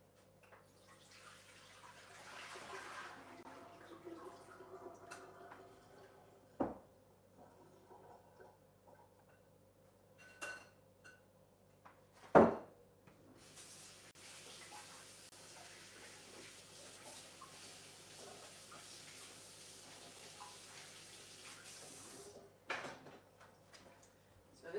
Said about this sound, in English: I'm just going to rinse those out in 2 seconds here.